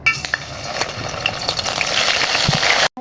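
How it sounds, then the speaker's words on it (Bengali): Onion paste spooned into hot oil fries with a loud, dense sizzle and bubbling hiss that holds steady for about three seconds, close by, with faint stirring clinks and no talk, before cutting off abruptly. "আমার তেলটা গরম হয়ে এসেছে। এখন আমি দিয়ে দিচ্ছি 2 টেবিল চামচ পরিমাণ পেঁয়াজ বাটা।"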